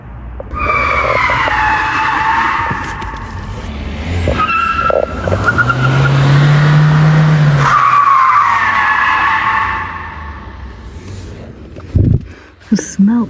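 Cars skidding with screeching tyre squeal, loud and close, in several long sweeping squeals punctuated by engine roar rising and fading, with a few sharp bumps near the end.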